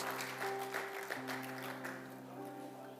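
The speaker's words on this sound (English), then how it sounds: "Can we give them a big round of applause, church?" A church congregation applauds at a Good Friday service, a moderate spread of clapping running through the clip beneath a sustained organ or keyboard tone.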